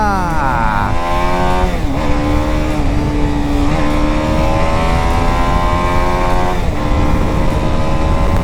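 A BMW G 310 RR motorcycle engine drones steadily at close range on a highway, its pitch rising through gears and dipping briefly at shifts, with wind noise beneath and no talk.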